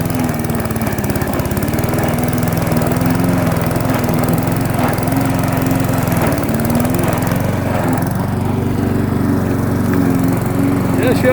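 A Briggs & Stratton small engine fitted with a muffler runs loudly and steadily up close, its throbbing drone wavering slightly in pitch as it is pushed toward choking out.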